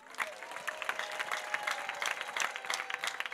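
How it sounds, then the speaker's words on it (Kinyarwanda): A church congregation claps together in a lively, fairly dense burst of applause, heard at moderate distance with many overlapping hand claps. "Mwakomera amashyi y'Imana"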